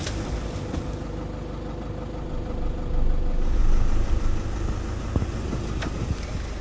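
A vehicle idles in low range down a rocky, flood-washed track through a forest valley in Magoebaskloof, giving a quiet, steady low rumble with a few soft knocks and crunches from the rough ground.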